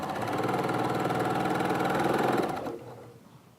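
A sewing machine stitches fabric with a quarter-inch seam allowance, running steadily for about two and a half seconds before slowing and stopping. The whirring motor is close and fairly loud, and no voices are heard.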